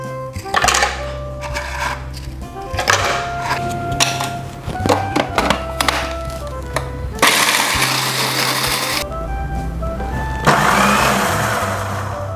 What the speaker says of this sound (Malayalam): ആദ്യം തന്നെ നമുക്ക് എടുത്തു വച്ചിരിക്കുന്ന ബിസ്ക്കറ്റുകൾ പൊടിച്ചെടുക്കാം